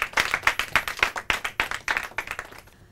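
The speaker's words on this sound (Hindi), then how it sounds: "तालियां हो जाए उनके लिए।" Audience applause at a Hindi-language quiz round after a correct answer, a steady run of sharp claps in quick rhythm from a modest crowd that fades out toward the end.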